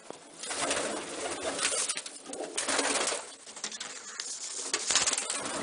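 Pigeons in a loft coo and rustle steadily throughout, with soft wing movement among the birds and no talking over it.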